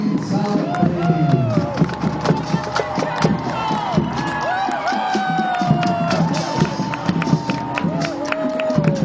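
Crowd cheering and clapping at a high school football game with Sheboygan South, a dense, continuous roar of many voices and shouts with talking mixed in throughout.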